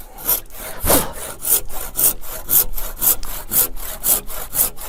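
Hand saw cutting a wooden joint in timber, steady rhythmic back-and-forth strokes with a rasping scrape on each pass, loud and close with no talking.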